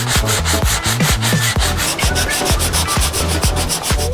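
A sanding block is pushed back and forth across a car body panel during a small paint repair, giving loud, steady rhythmic scraping strokes at about two per second with no talk.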